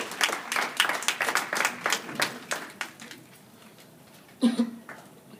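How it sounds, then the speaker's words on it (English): A crowd claps for performing artists at a stage event, the applause loud and dense at first, then thinning to scattered claps before a brief louder burst near the end. "let's give them a round of applause to all the artists that's in the house today"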